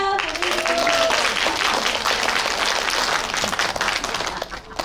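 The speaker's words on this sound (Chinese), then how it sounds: "掌声鼓励" An audience at an evening school showcase breaks into loud, continuous applause, many hands clapping together for several seconds after a short voice, tapering slightly at the end.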